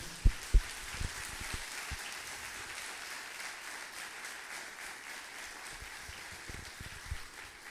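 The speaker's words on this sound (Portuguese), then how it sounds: "Será que nós podemos aplaudir o Senhor com expressão de gratidão?" A church congregation claps in thanks during a worship service. The applause is moderate and fairly distant, with a few louder claps at the start, and it carries on steadily for several seconds before thinning out.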